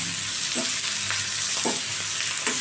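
Cashews go into a hot pan of mushroom and capsicum gravy, frying with a steady sizzle while a spoon scrapes and stirs in a few soft knocks.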